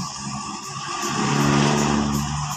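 A motorcycle with a sidecar idling and revving, a steady droning engine hum that swells louder in the middle and eases slightly toward the end, close by and without talk.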